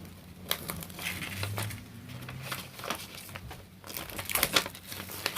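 Die-cut watercolour card paper peeled slowly away from its adhesive backing, giving close, soft crinkling and tearing rustles with brief sharper crackles toward the end, alone with no talk.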